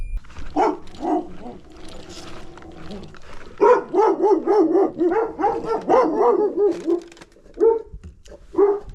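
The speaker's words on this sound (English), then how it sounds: "Hear a dog barking." A dog barks repeatedly nearby outdoors, in rapid clusters of loud barks with brief pauses, heard from a delivery driver's vehicle while making a stop.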